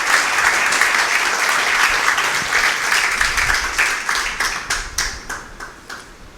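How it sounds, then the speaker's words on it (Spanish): A church congregation applauds loudly and steadily, with dense clapping that thins into scattered, separate claps toward the end. "Y el pueblo de Dios dice amén, con un fuerte aplauso."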